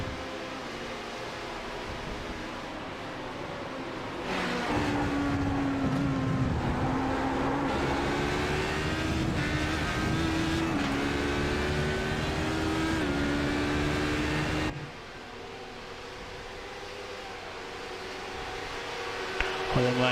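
Race cars at Le Mans in the iRacing video game, LMP prototypes lapping GTE cars, roar past with rising and falling engine notes and gear shifts under a steady engine drone, ending in a quieter stretch.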